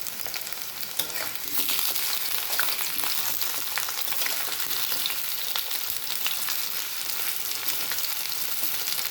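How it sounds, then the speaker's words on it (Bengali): Mutton frying in a pan with whole spices like cardamom, peppercorns, cinnamon, cloves and star anise, a steady close sizzle punctuated by scattered crackles and occasional scrapes of stirring. "দিয়ে সামান্য ভেজে দিয়ে দিলাম মাটন।"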